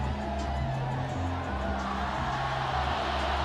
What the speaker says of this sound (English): And you hear the fans cheering.